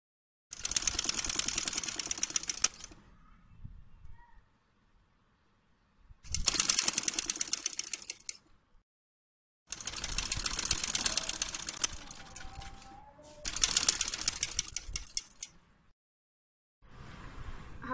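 A sewing machine stitches double-folded piping onto the neckline of a small girl's frock, running in four close, steady bursts of a few seconds each, separated by quiet pauses.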